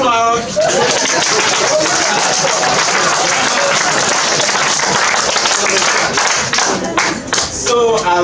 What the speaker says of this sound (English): Can we clap loud?